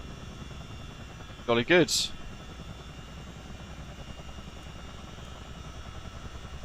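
A CH-47D Chinook helicopter taxiing on the ground in Microsoft Flight Simulator gives a steady droning rotor and engine rumble throughout, with a brief spoken remark near the start.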